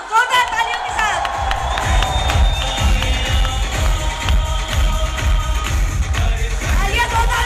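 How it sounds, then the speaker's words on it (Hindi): An audience at a direct selling seminar in Haridwar claps and cheers loudly as a director is welcomed to the stage, with dense, steady applause and scattered shouts continuing throughout. "जोरदार तालियों के साथ।"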